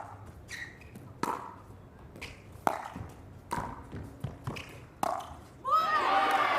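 Pickleball paddles strike the ball in a professional league match, sharp hollow pops at irregular intervals of about a second, with soft footsteps between them and crowd noise swelling at the end.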